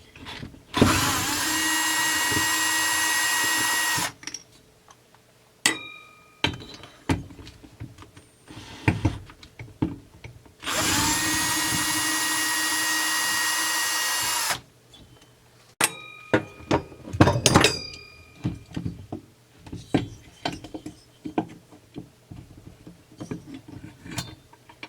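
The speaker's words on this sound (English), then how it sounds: "I'm going to take the cylinder head off, which is only on with a couple of bolts." A power tool whirs in two steady bursts of about four seconds each while removing the cylinder head bolts from a Husqvarna 262XP chainsaw, followed by clinks and rattles of parts being handled up close.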